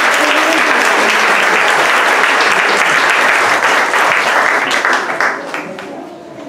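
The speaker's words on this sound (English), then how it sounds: "give them a round of applause as they go" Audience applause for first grade performers at a school Art Week show, a loud, dense burst of clapping sustained throughout before thinning and fading near the end.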